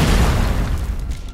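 Heavy boom of a Pershing tank's cannon firing in a World War II battle at the Remagen bridge, a loud deep blast that rolls and decays over about a second.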